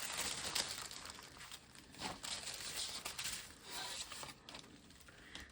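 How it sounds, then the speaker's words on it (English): Scissors poking into and cutting tissue paper corners for a junk journal envelope, producing soft crinkling and papery rustles in several uneven bursts, faint and close with no talking. "I'm going to just poke into the tissue and kind of cut at these corners"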